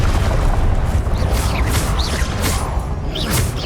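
Confringo spell explosions in Hogwarts Legacy, a loud, continuous rumbling blast with whooshing swells and fiery crackle throughout, close and dense, with no speech.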